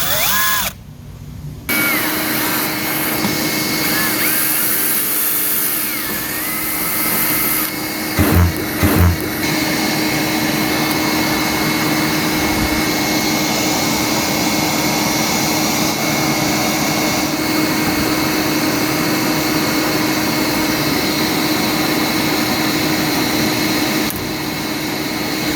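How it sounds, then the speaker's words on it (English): A power drill bores a 1/8 inch hole in a pool wall, running as a loud, continuous whine for over twenty seconds with a few brief dips and bumps in pitch partway through. "Drill our first hole."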